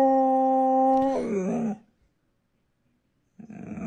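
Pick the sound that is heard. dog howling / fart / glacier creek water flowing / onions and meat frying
dog howling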